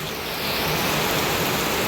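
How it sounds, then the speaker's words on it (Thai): Heavy rain pours down in a dense, steady hiss that fills everything, with no voices. "มื้อนี้ฝนตกแห้งเลย"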